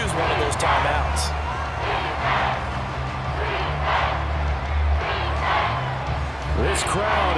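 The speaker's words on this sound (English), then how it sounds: "This crowd turning up the decibel level." A football stadium crowd roars through a third-and-long in an Eagles vs. Chiefs game, a dense, continuous wall of cheering and shouting that stays loud with brief swells.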